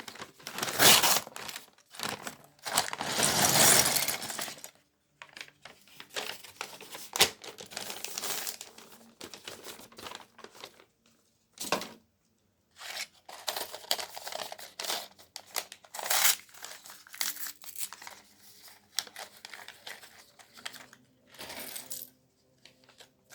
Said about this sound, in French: des bouts de sac en papier et des pièces Lego qui s'emboîtent.